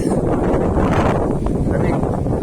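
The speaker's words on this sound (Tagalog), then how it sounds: "sarap ng hangin guys" Steady wind roars across the microphone while riding an e-bike past cornfields on a sunny day, a dense continuous buffeting with no pauses or clear voices.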